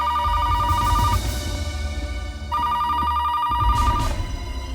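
An old-style telephone rings in two bursts, close and loud, with a short gap between them and a low rumble underneath.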